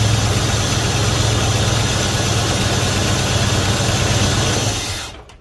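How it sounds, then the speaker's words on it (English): A 1971 Dodge Coronet police car engine, run after sitting for 30 years, idling steadily with a low rumbling hum, loud and close, then cutting off near the end. "it's idling fairly smooth"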